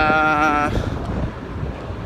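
Steady broadband rush of wind buffeting the microphone outdoors on a sunny, windy day, following a brief harmonic tone at the start.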